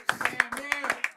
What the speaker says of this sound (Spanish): ¡Fuerte el aplauso para Quilmes!